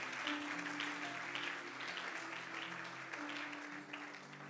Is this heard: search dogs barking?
no